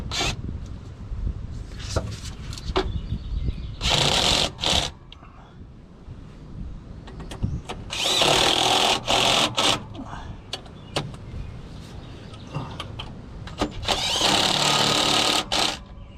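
Bolts being run in with a power tool during a clutch replacement on a cabover truck, several loud whirring bursts of a few seconds each between quieter workshop noise, with someone talking throughout.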